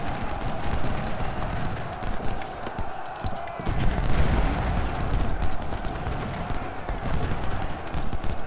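Ultimate General: Civil War battle at Saunders Farm, with dense rolling musket volleys and cannon booms rumbling continuously, loud and layered throughout.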